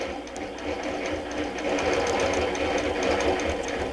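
Quilting machine stitching in ditch work mode, a fast steady mechanical chatter of needle strokes running continuously and close, with no talk over it.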